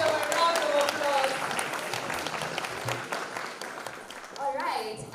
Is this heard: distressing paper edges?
no